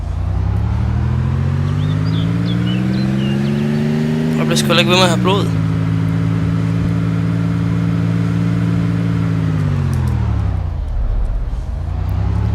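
A car engine in the DayZ game holds a steady mid-pitched drone for the full stretch, rising slightly as it accelerates and then settling, with a voice speaking over it throughout.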